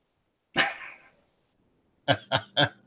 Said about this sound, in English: Booger wants to know, Dan, have you met the neighbor's barking dog, or do you just yell at him?